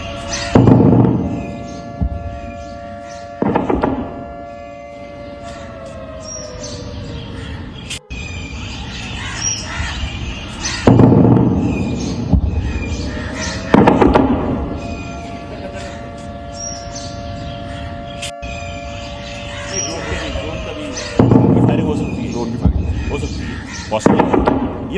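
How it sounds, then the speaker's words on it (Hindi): Heavy anti-aircraft gunfire booms in repeated bursts at intervals in Poonch, echoing from a distance over a steady droning tone. "एंटी एयरक्राफ्ट एक गन फायर करते हैं, उसकी आवाज है"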